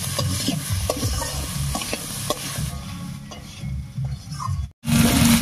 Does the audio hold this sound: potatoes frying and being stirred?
yes